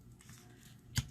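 A single sharp snip of scissors trims excess paper from a handmade stamped card. It is one brief, close cut that stands out against a quiet background.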